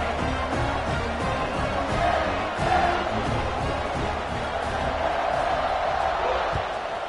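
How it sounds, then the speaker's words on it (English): A large football stadium crowd roars and buzzes continuously after a touchdown, a dense, loud wash of voices and cheers with occasional whoops rising out of the din. "this crowd is buzzing after that last score"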